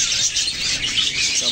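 Pet birds chirp in a steady, dense stream of high tweets, close and fairly loud, with no pause across the short stretch.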